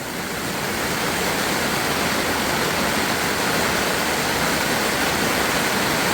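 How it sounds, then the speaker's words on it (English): A steady, loud wash of downpour during a severe thunderstorm at a Louisiana campsite, rain hammering continuously without pause, close by and with nothing else audible. "It's pouring."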